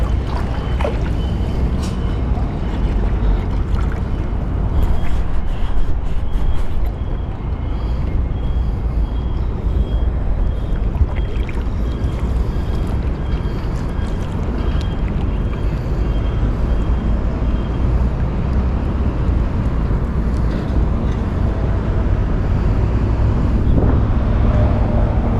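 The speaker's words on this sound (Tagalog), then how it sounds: "Mahangin na." Steady, loud wind roars across the microphone out on open water, with a boat engine's low rumble and occasional gusty buffeting throughout.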